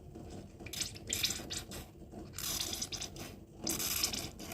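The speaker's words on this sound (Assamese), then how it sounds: "তাৰপিছতে অকণমান নাৰিকল তেল দি দিছোঁ।" Coconut oil poured into a homemade soap mixture with glycerin, heard as three short splashy liquid pours separated by brief pauses, fairly quiet and with no talking.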